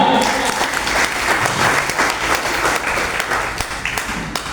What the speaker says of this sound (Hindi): उनके लिए तालियां बजाइएगा